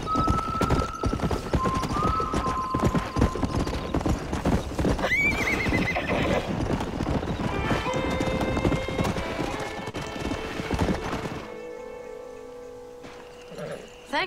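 Horses in Red Dead Redemption clip-clop steadily along with several neighs and whinnies, hooves thudding continuously before fading into quieter background sounds.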